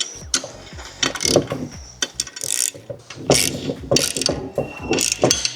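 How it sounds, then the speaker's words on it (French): Ratchet wrench tightening three M8 bolts with 13 mm nuts while fitting an exterior door-mounted rack on a Mercedes Sprinter van, heard as repeated bursts of close, loud clicking with short pauses between strokes. "on vient serrer nos 3 vis donc avec les écrous de 13"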